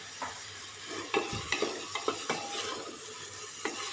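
Tomatoes salted and cooking in a pan for a Punjabi aloo chana curry, with a steady sizzle under repeated spoon scrapes and stirring knocks, close and moderately loud, no voices.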